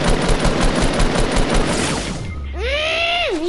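Rapid gunfire from a sniper rifle in a video game, a loud, dense run of repeated shots for about two seconds, followed by quieter game effects including warbling, swooping tones.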